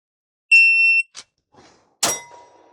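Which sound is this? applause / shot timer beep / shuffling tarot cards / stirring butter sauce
shot timer beep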